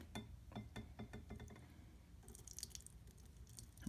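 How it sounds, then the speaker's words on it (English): Homemade coconut milk poured into a small strainer, quiet wet squishing and dribbling with a few soft clinks, faint and close, irregular trickles that thin out toward the end. "We're just gonna go ahead and pour this right in the strainer."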